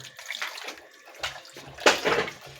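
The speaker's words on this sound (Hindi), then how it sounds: "गोश्त धुल रहा है" Meat being rinsed under running water in a kitchen while preparing Afghani pulao, giving a steady splashing wash with a few louder gushes and surges, close and without talk.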